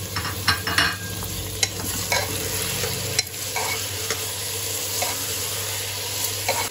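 500 g of mutton goes into a pot of lightly browned onions for a whole-spice stew, and the meat sizzles loudly and steadily. Scraping stirs and clatters from a spoon sound near and clear throughout, with no voices.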